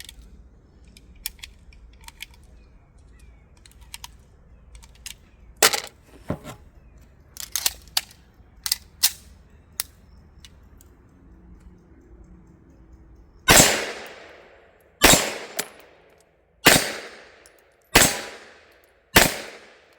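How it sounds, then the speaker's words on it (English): Five loud, sharp pistol shots from an MPA DS9 at a shooting range come at a steady pace in the final stretch, each with a short ringing decay. Quieter clicks and handling noises come before them. "Let's shoot a 5-shot group on his head, see how tight we can keep it."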